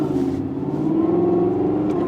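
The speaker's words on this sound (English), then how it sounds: "Driving this specific car with the quite noisy aftermarket exhaust makes you feel a little bit like driving a hot rod from time to time" An Audi R8 with a manual gearbox and a loud aftermarket exhaust holds a steady, rumbling engine note, rising slightly as it revs, close and continuous with no voices.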